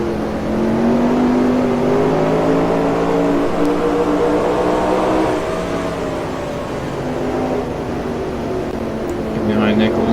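Stock car engines from the NR2003 racing game drone and rev in a sustained, loud, close roar, with someone talking over them throughout.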